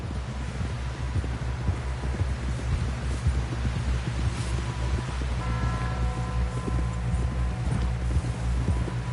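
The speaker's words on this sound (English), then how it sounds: "Someone help John down off this horse" Horse hooves gallop in a rapid, steady clip-clop rhythm in the video game Red Dead Redemption 2, with a rushing wind-like bed underneath and no voices.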